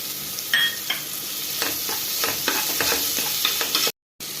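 Black pepper powder being stirred into a green peas curry in a pan, with soft scraping strokes and a steady sizzle running throughout, close and moderately loud, cut off by a brief silence near the end.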